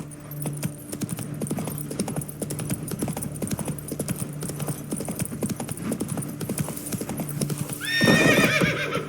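Horse hooves clip-clop steadily at a trot in The Witcher 3, close and continuous under ambient game sound, ending with a loud neigh.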